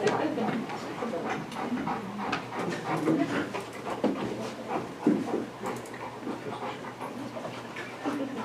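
A dog panting and whimpering at a county board of supervisors meeting, steady rapid breaths with soft whines running throughout, fairly close, with faint voices mixed in.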